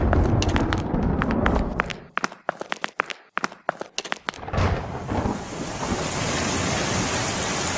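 Rainstorm with thunder: a run of sharp crackling bursts gives way to a loud, steady downpour hiss that fills the rest of the clip, close and without speech.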